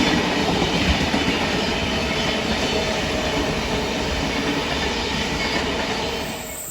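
An NSW TrainLink V set intercity train runs past on the fast lines with a loud continuous rail roar and wheel clatter, fading slightly toward the end.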